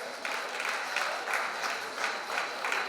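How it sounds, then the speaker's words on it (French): Steady applause from a crowd at a climbing competition final, many hands clapping together continuously with no talking. "on peut l'applaudir bien fort Clément."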